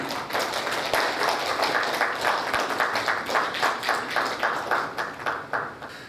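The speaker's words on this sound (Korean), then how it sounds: "큰 박수로 맞이해 주시기 바랍니다" An audience at the Atlanta council's inaugural ceremony claps steadily to welcome former council chair Oh Young-rok, with individual claps distinct in a moderate, even rhythm lasting the whole stretch.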